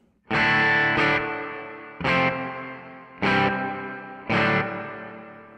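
Distorted guitar chords through a TC Electronic Hall of Fame pedal on its church reverb setting, four strummed hits spaced about a second apart, each swelling loud then ringing out into a long, smooth decay.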